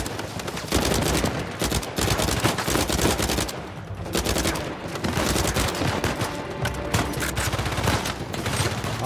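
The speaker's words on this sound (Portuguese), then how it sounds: "Muito tiro." Intense gunfire in the Uncharted 4 video game, dense bursts of automatic fire and single shots crackling nearly nonstop, loud and close with a brief lull midway.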